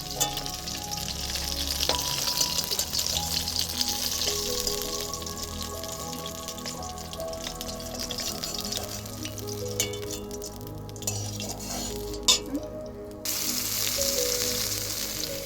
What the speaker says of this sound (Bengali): মাছগুলো ভাজা হয়ে গেছে, এবার এখানে তুলে নিচ্ছি।